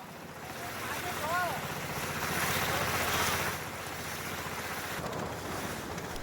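A small boat heading out to sea toward a rocky islet, a steady engine drone under wind and splashing waves, with wind buffeting the microphone and a faint voice or bird call early on.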